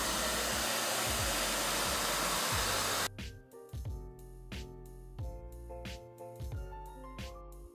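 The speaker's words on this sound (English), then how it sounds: "Heat gun's at work, so I gotta use a hairdryer." A hair dryer, used in place of a heat gun to warm engine parts before spray painting, roars loud and steady for about three seconds, then cuts out, leaving rhythmic music playing.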